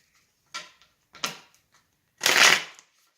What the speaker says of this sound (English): I'm just going to shuffle a couple times.